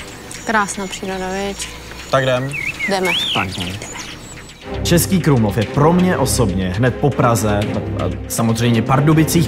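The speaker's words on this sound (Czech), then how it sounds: "Slyšíš ty ptáky zpívat?" Birds chirping outdoors in the historic town of Český Krumlov, bright calls threaded through the soundscape while a person talks continuously over them.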